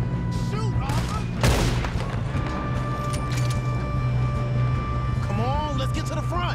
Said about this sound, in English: Shoot, Robert